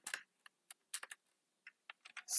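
Computer keyboard typing Java code, a short burst of close, crisp key clicks in irregular rhythm with brief pauses between strokes, alone with no talk.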